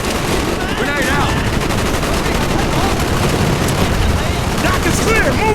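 Heavy gunfire in the Call of Duty Black Ops video game, with dense rapid bursts and booming blasts that include a grenade explosion, loud and continuous throughout, with a shouted voice mixed into the battle.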